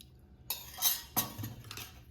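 Buttermilk poured from a container into a mixer jar onto ground paste for a buttermilk rice dish, with clattering metal utensil knocks and splashy bursts in a few close, short clusters, no talking.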